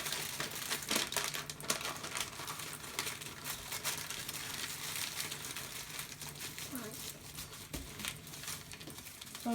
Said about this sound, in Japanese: 新聞紙にお芋を包んで